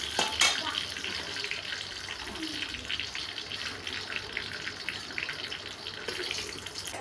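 Chicken with taro frying in a pan with oil, a steady broad sizzle running throughout at moderate volume, with a brief sharp clatter near the start.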